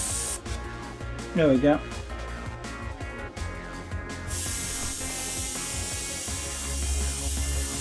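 An airbrush sprays paint with a hiss that begins partway through and then holds steady, heard after a short burst of speech and some tool clicks.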